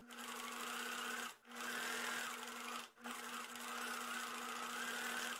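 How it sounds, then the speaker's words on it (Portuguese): Sewing machine running a continuous seam along a V neckline, a steady close mechanical whir broken by two short pauses, with no one talking. "continuar a costura até o centro da peça de um lado e até o centro do outro lado"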